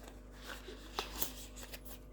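Soft, close riffling and flicking of tarot cards being shuffled, a few quick light snaps in a quiet room.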